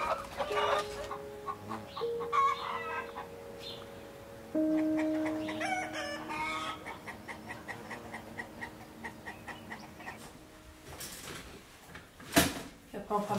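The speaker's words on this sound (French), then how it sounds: "Elles sont cool, ces poules." Hens on a mountain farm cluck and squawk in short bursts, with a rooster crowing nearby, while people talk over and between the bird sounds.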